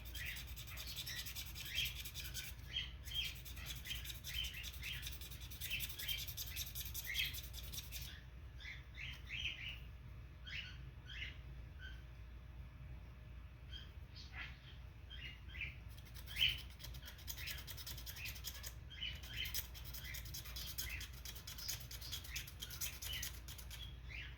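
Plastic propellers from a Phantom drone are scraped by hand to shave off weight, making close, rasping strokes in repeated bursts separated by short pauses.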